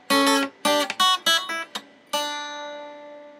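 Several plucked acoustic guitar notes ring out in quick succession, short and choppy, then a final note rings and slowly fades away.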